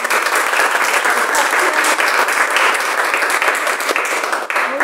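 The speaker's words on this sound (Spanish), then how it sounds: "Un aplauso para ella, por favor" An audience at a Spanish-language poetry reading round claps warmly in a loud, sustained burst of applause that stays even and dense from start to finish.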